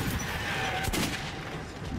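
Shotgun blasts go off in Metro 2033 amid a noisy, chaotic background, with one sharp, loud crack near the middle of the brief burst.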